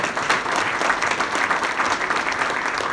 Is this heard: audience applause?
yes